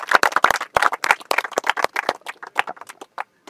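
Audience clapping for the winning team at a wheelchair cricket match, a run of sharp, uneven hand claps that carries on for several seconds and then trails off near the end.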